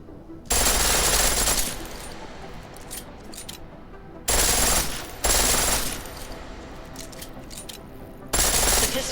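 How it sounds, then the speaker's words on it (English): Rapid full-auto pistol fire in a video game, three long loud bursts of dense continuous shots separated by brief pauses. "The pistol in full auto will take down targets fast, but it'll burn through your ammo."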